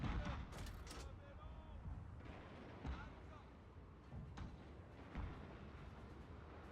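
Cannon fire rumbles through a naval battle in Total War: Shogun 2, with repeated deep booms and blasts layered over continuous battle noise, while someone speaks over it.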